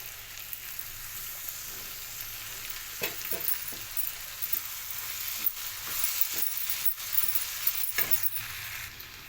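Okra fries dry in a pan with chili powder and mutton masala, a close steady sizzle broken by regular scraping stirs and light utensil clinks.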